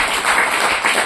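A church congregation claps loudly together during a sermon, a short, dense burst of many hands with a slight pulsing rhythm, close and full.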